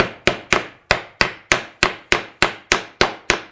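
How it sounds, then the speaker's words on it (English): A hammer taps cabinet hinge plastic dowels into a door: about eleven sharp, evenly spaced knocks on wood, crisp and close, with no talking. "insert that hinge where the two dowels line up and take a hammer"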